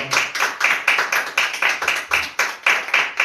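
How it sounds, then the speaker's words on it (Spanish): A church congregation claps in unison for the Lord during a Spanish-language sermon, sharp rhythmic claps landing in a steady beat of about three per second, loud and close. "dale palmas al Señor."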